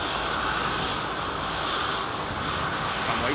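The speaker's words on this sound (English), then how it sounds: "See what I mean about the Rolls-Royce Trent" A jet airliner powered by Rolls-Royce Trent engines at London Heathrow gives a steady, moderately faint engine roar with an even rush throughout, no voices over it.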